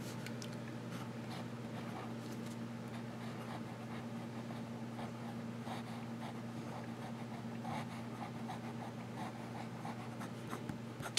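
A Lamy Safari fountain pen with a medium nib writes on paper, a soft, continuous scratching with small rhythmic strokes over a faint steady hum of room noise.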